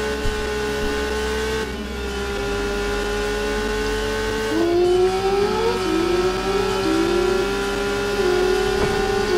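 In a video game, a car engine races around a loop track, holding a steady drone and then climbing in repeated rising revs as it accelerates. The sound is loud and continuous.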